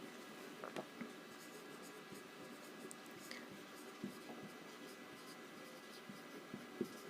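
Pen or marker writing out a formula by hand on a board, soft faint scratching strokes with occasional small taps against a quiet room background.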